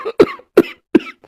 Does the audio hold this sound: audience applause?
no